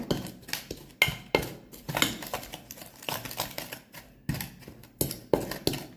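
A spoon clinks and scrapes around a bowl while stirring a raspberry jelly mixture, giving irregular close taps and knocks in bursts with short pauses in between.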